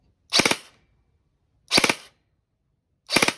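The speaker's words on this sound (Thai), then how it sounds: "เดี๋ยวเรามาฟังปลอกแสงเดิมกันครับว่าจะดังไหมนะครับ" A G&G CM16 Raider L2.0E airsoft rifle fires with its original tracer unit fitted. Three loud, close single shots come at an even interval of about a second and a half, with silence between and no talking.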